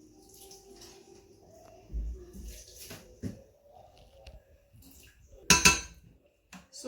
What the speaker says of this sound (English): So I just added the sauce in the pan.